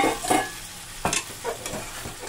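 Curry fries and sizzles in a pan right after hot water goes in. It hisses steadily up close, and a few scraping stirs rise in brief bursts over the bubbling.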